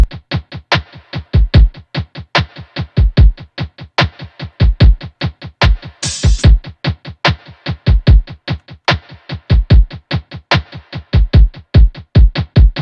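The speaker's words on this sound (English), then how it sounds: "So yeah, all the drums together sound like this." Full trap beat drum pattern plays: rapid, evenly spaced percussive hits with heavy low kicks and occasional brighter snare or cymbal accents, dense and loud throughout, with no voices.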